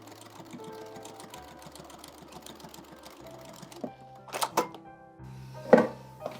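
A domestic sewing machine edgestitches along the edge of fabric, running in a steady rapid whir for several seconds before slowing into a few louder, separate clunks and taps near the end.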